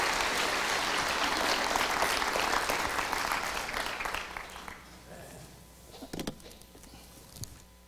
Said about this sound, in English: I wanted y'all to give them one big round of applause again, would you?